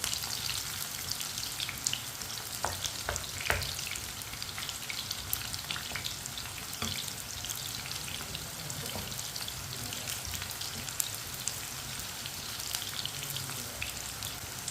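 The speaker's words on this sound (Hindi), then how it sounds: "बैंगन को 2-3 मिनट के लिए फ्राई कर लेंगे।" Finely chopped eggplant frying in hot oil, a steady close sizzle with scattered pops and crackles running throughout, no voices.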